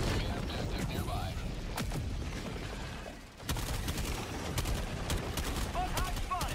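Sentry turret in Helldivers 2 firing in a game battle, dense rapid gunfire bursts with explosions and game effects throughout, loud and close, with a brief lull midway.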